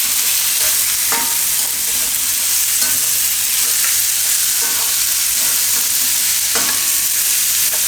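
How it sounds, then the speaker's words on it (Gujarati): Cashews roasting in a hot pan for a tomato paneer dish give a steady, close, loud sizzle, with scattered scrapes and clicks as they are stirred. "અને આમાં નાખી દઉં આપણે આ કાજુ. આ બધું થોડીક વાર શેકી લેવું."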